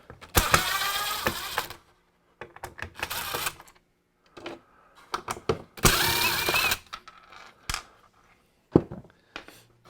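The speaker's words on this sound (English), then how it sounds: "there's 3 screws here that we'll go ahead and take off" Screws being backed out of a blower fan cover, a cordless driver whirring in several short bursts with clicks and clatter of parts between them, close and fairly loud.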